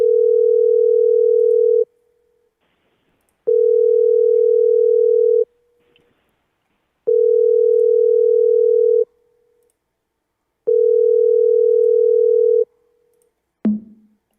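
A telephone line rings out unanswered: four long, evenly spaced tones with silent gaps between them, clear and alone, ending in a short click-like burst.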